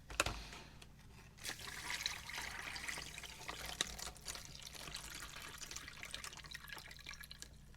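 Water poured into the fill line of a flameless ration heater bag for an MRE of white chicken chunks, a steady close trickle and splash running for several seconds with faint drips, no voices.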